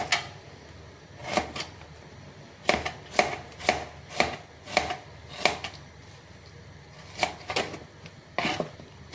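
A knife chops onion into thick pieces on a board for pickle, with crisp, evenly spaced cuts that come in short bursts of two to four strokes, close and fairly loud with quiet gaps between.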